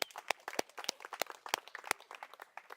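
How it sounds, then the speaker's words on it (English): A keynote audience at a live presentation claps for a volunteer. The individual hand claps are fairly quiet and scattered, loose and uneven rather than a full roar, with no speech. "Give him a clap."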